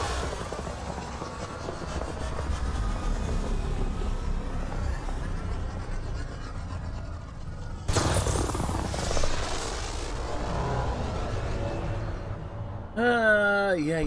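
A spacecraft in Mass Effect Andromeda lifts off with a steady, rumbling engine roar that surges into a louder, sudden thrust burst midway, then gives way to a brief musical flourish at the end, with voices talking over it.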